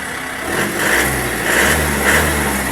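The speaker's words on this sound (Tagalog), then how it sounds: "Yun yung parang tunog na nakakamiss din paminsan-minsan sa diesel na parang iisa kayo nung sasakyan." Diesel single-cab long-bed pickup truck engine revs in three surging pulses over a steady running drone, close and loud, with no voices.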